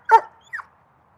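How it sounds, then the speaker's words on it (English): A dog gives one sharp, close bark followed by a shorter, higher yip, both loud and clear against near silence. "What the heck is that bark?"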